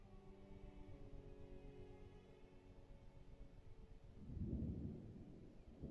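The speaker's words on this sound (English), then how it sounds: "It actually sounds like thunder." Distant thunder rumbles in The Sims 4 during strange weather, a faint low roll beneath soft steady wind, then swells into a deeper, louder rumble near the end.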